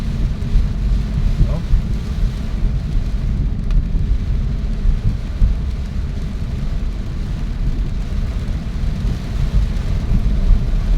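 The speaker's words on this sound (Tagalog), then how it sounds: "Yung lakas po ng ulan." Heavy rain roars steadily and loudly on Quezon Avenue, a dense unbroken wash of noise with a deep rumbling undertone throughout.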